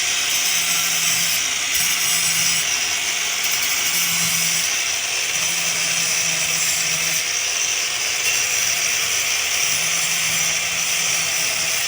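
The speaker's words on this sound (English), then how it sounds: "this time we grind one direction first and then change to the second direction" A power tool grinds a metal garden torch in one direction and then the other, a steady loud broadband whine running continuously throughout with no speech.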